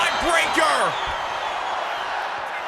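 A big arena crowd in a WWE 2K25 wrestling game chants continuously as a dense, loud roar, with a short rising whoop early on.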